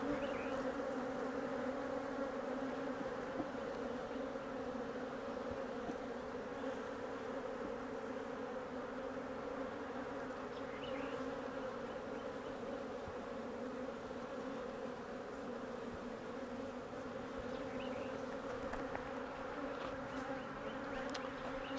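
Honey bees drone steadily inside an open hive while a new queen is introduced, with a dense, continuous buzz holding at an even, fairly close level throughout and no voices.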